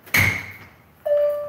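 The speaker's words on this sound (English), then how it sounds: "And somebody's coming in the door right now." An indoor door opens as someone comes in, giving a sharp knock or thud followed by a fading ring and then a second bright tonal squeak or clunk, with no talking.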